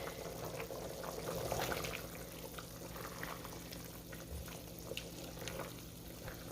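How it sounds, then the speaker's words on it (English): Steady bubbling and hissing of water at a rolling boil, a continuous churning wash with faint pops, fairly close and without voices. "it has literally been no time and we are boiling"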